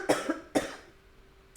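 Two sharp, close coughs in quick succession, followed by a brief quiet pause and a small trailing sound.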